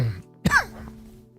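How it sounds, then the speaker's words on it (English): A single sharp, loud cough bursts out once, close to the microphone, after a moment of quiet, with a low steady background hum continuing beneath it. "Bad cough."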